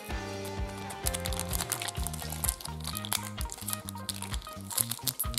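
A plastic packet of slime is pulled from a surprise bag, giving close, continuous crinkling and rustling of plastic packaging over a low steady musical background.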